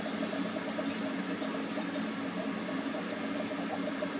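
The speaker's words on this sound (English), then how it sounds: "you can see the solution rises, bubbling away." Acid solution bubbling inside a Kipp's gas generator as a valve is opened, a steady, continuous fizzing and gurgling close by with no voices over it.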